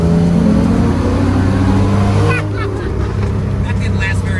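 A 1971 Nissan Skyline Hakosuka's engine revs loudly and climbs through a gear change, a harsh rising drone that breaks off midway, close by amid outdoor car-meet noise with people talking.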